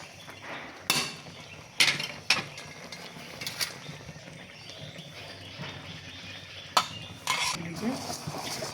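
A powdered laddu mixture is stirred in a cooking pan, giving scattered scraping and clinking hits of spoon on metal, with a few sharper knocks among softer rustling, fairly close.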